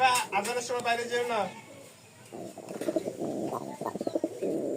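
Soft, low pigeon coos rumble in short repeated bursts after someone speaks nearby, the birds close and fairly quiet.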